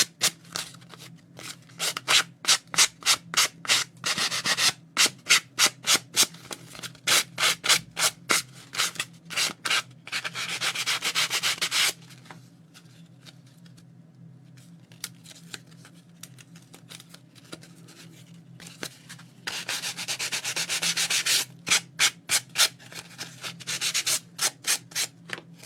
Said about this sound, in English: Then I'm just gonna sand around. And that will give it a nice rough edge.